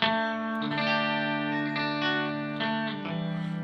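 Electric guitar through a Walrus Audio Fundamental Chorus pedal with the depth lowered, held chords carrying a gentler, subtler wobble and light echo, fairly quiet and with no voices over it.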